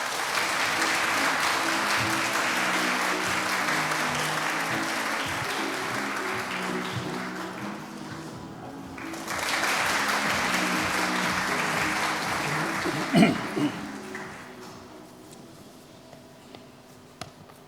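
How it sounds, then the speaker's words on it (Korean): Sustained applause from a conference audience welcoming a keynote speaker at an opening ceremony, a dense steady clapping that dips briefly midway, swells again, then thins out toward the end. "큰 박수로 환영해 주시기 바랍니다."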